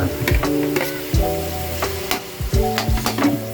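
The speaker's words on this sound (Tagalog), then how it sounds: "Niluluto siya sa mantika." Chopped garlic and ginger fry in oil with a loud, continuous sizzle, broken by a few ringing metallic clanks and scrapes of a spatula against the pan.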